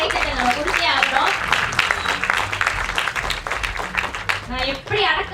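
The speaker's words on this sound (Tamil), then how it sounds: "அவருக்கு ரொம்ப பெரிய வளர்த்த கைத்தட்டல் நம்ம கொடுத்தே ஆகிறோம்" Audience applause welcoming Grand Master Muralitharan at a film premiere screening, a sustained dense clapping wash lasting several seconds with voices mixed in.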